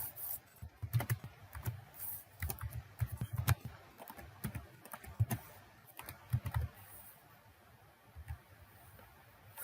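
Typing on a computer keyboard while text is entered into a document: irregular clusters of close, soft key clicks and taps with short pauses between bursts, fairly quiet, and no voice heard.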